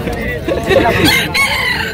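A rooster crows among caged fowl at a crowded Malabon cage shop, a clear call rising over busy background noise and possible talk.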